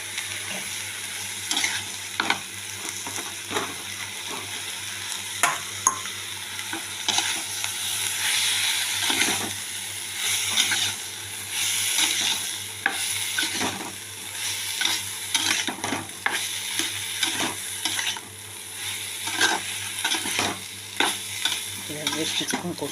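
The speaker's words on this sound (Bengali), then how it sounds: "এবারে খুব ভালো করে একটু কষিয়ে নিয়ে আমি দিয়ে দেবো গিয়ে সয়াবিনটা দিয়ে কষাবো।" Soybean chunks sizzle and hiss continuously in a hot pan while a spatula scrapes and stirs them in irregular strokes, a busy close frying sound throughout with no voices.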